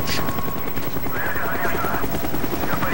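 Helicopter in the Call of Duty Black Ops video game, a steady loud rotor drone with chopping thumps running throughout, with game music and effects layered over it.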